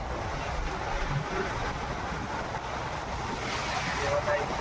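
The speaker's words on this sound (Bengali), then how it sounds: "এখানে একটু বড় বড় ঢেউ হচ্ছে" Waves wash against each other steadily in the Sundarbans over a constant rush of wind buffeting the microphone, with no clear breaks in the watery noise.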